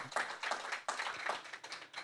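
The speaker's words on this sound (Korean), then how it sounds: "우리 박수 한번 칠까요?" An audience at a K-beauty business seminar claps in a short burst, individual claps distinct and rhythmic, fairly close and moderately loud, with no talking.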